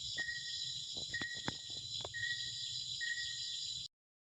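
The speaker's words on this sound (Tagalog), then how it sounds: "Yung mga boses ng insekto." Insects chirping at night outdoors, a dense continuous high trill with faint intermittent lower tones and a few soft knocks, cutting off abruptly near the end.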